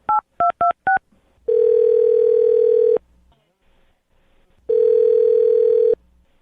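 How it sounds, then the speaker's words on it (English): A landline telephone dialing a number: four quick touch-tone beeps, then two long, steady ringback buzzes separated by a pause, heard clearly and alone. "Curtis, I'm going to dial the phone number right now and see if we can get her on the phone, okay"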